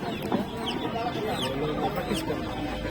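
Chickens cluck and chatter in a busy, noisy village market in Mawna, Sreepur, Gazipur, with bird calls scattered throughout and people talking nearby.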